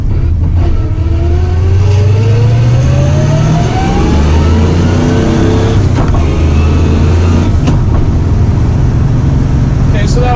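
A car with a swapped G101 transmission accelerates hard through the gears, engine pitch rising and dropping at each shift, loud and close, with traffic around.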